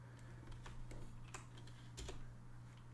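Quiet computer-keyboard typing: a few irregular, soft key clicks in short bursts over a steady low hum, with no voice.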